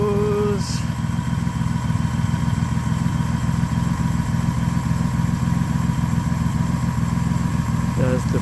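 A 1973 Citroen SM engine, started after several years dormant, runs at a steady, rough, throbbing idle close by, with people talking over it.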